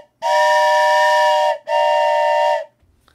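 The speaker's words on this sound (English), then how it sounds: "Train whistle. Isn't that cool?" A toy train whistle is blown close into a microphone, producing two loud, steady, breathy whistle tones, each about a second and a half long, separated by a brief gap.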